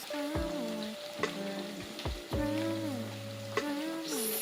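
Onions fry in a pan for matoke masala with a continuous soft sizzle, broken by a few stirring knocks, close and moderate in level.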